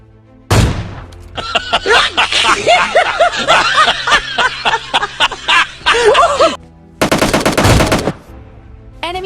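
AWM sniper rifle fire in a battle royale game, sharp loud shots and bursts of gunfire alongside rapid game action noise, with a voice and snickering laughter mixed in.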